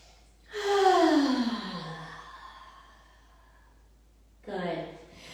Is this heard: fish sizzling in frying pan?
no